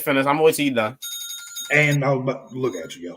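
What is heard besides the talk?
phone alarm ringing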